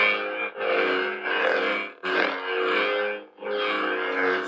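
Lightsaber activation effect from a Proffie-board saber build, a dense buzzing, distorted hum with harmonic layers that swells in repeated bursts of roughly a second or more, loud and close with no talking.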